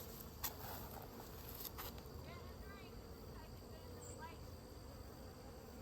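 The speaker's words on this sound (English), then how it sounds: "Feeding the bees." Honey bees hum faintly around a hive during fall feeding with liquid feed, a soft continuous buzz with a few brief bees passing near.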